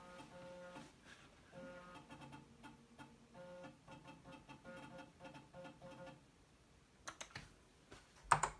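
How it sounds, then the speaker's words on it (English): Typing on a Macintosh Plus computer keyboard, a run of quiet, irregular clicking keystrokes heard close up with soft mechanical tones, ending in a few sharper, louder clacks. "Let's just open up a text file and start typing."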